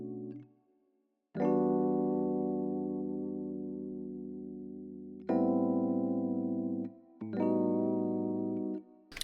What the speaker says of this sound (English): So I come up with a different chord progression that I play with some electric piano.